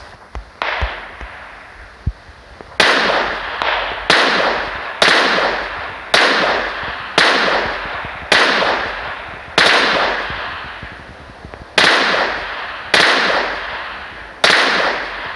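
Sniper shots ring out in the battle-royale game PUBG Mobile, about a dozen sharp, loud cracks each trailing off in a short echo, spaced at roughly one-second intervals with a brief pause midway.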